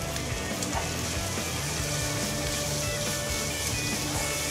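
Ground beef steak browning with thyme in a frying pan, a dense continuous sizzle and crackle, close and even throughout with no voices.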